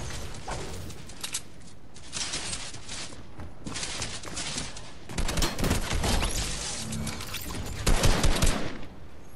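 Fortnite gunfire rattles in dense bursts of rapid automatic shots, loud and close, continuing almost without pause through the whole stretch with heavier volleys near the end and no talking.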